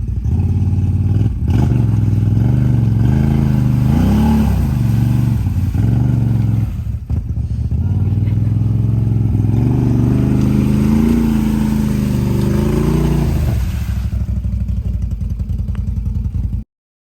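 A Can-Am Renegade 1000 ATV engine revs loudly and close, rising and falling with repeated throttle blips over a rough low roar, with brief dips before cutting out at the end.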